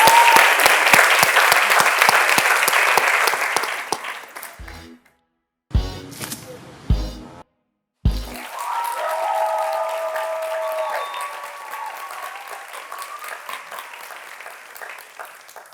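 A studio audience breaks into loud, dense applause for several seconds, which cuts off into short bursts and gaps before a quieter stretch of other sound.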